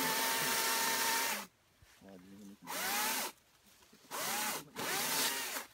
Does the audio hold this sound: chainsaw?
yes